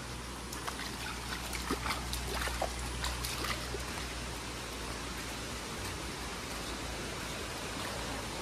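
A river runs with a continuous broadband rush of flowing water, steady and moderately loud, with a low hum early on and no talking.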